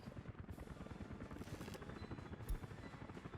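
Helicopter in the city-building game Workers & Resources: Soviet Republic, a steady rapid rotor chop with a whining drone, continuous and fairly close, played alone.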